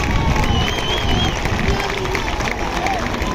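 Crowd cheering and clapping at a local bull-leaping contest in Massamagrell, a steady dense roar of applause and voices throughout, loud and continuous with an announcer's voice faintly mixed in.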